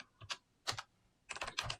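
Short bursts of typing on a computer keyboard, a few quick keystroke clusters separated by brief pauses, close and clear with no talking.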